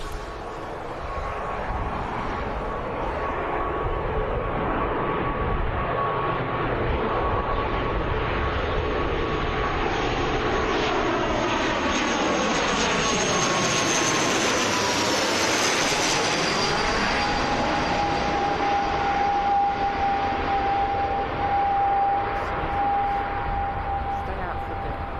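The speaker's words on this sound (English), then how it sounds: "here comes Aer Lingus from Dublin" An Aer Lingus airliner arriving from Dublin at Birmingham Airport roars loudly and steadily, its engine whine sweeping in pitch as it passes close by, with someone speaking during the approach.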